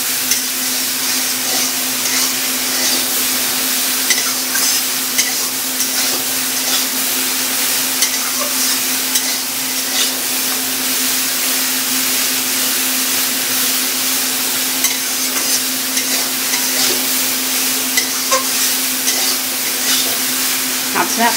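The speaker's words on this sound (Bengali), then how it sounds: "এখন মা এটাকে আগে ভালো করে নাড়িয়ে চাড়িয়ে ভেজে নেবে হলুদ লবণ দিয়ে" Pumpkin greens and potatoes stir-fried with turmeric and salt in a pan, giving a steady, loud sizzle with scraping stir strokes throughout and a constant low hum beneath.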